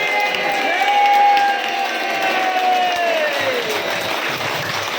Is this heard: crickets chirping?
no